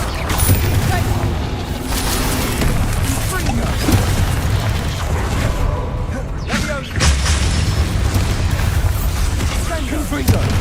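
Repeated Confringo fire-spell explosions in the Hogwarts Legacy video game, booming blasts that run almost continuously over a dense rumbling game soundscape, with a voice talking over them.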